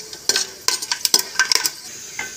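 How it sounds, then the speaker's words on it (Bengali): Whole bay leaves, cloves, cardamom, cinnamon and mace hitting hot ghee and white oil, a soft sizzle broken by a quick run of utensil scrapes and clicks against the pan, close and brief with no talking. "ঘি আর সাদা তেল গরম হয়ে গেছে। তার মধ্যে দিয়ে দেবো গোটা তেজপাতা, আর দিয়ে দেবো লং, এলাচ, দারচিনি আর একটা জয়িত্রী।"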